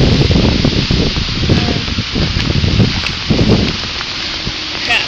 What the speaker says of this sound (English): It's like windy too